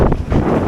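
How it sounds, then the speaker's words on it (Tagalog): Strong wind gusting at the seaside on Siquijor, buffeting the microphone with a loud, low rumbling roar in a brief burst. "Ito yung malakas na hangin."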